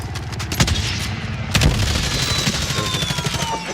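Sustained rapid gunfire in a battle royale video game, dense overlapping bursts of shots that run continuously and loudly throughout, with no speech.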